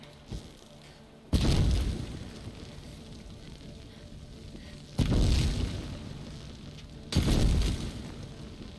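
Fire and explosions in the game Breath of the Wild, three loud bursts spaced a few seconds apart, each a sudden whooshing boom that settles into a crackling, roaring burn before the next.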